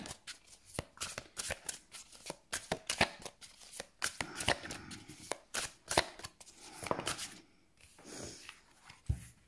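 Tarot cards are shuffled and handled before one is drawn from the deck, making close, crisp riffling and snapping sounds in quick repeated bursts, with a short pause near the end.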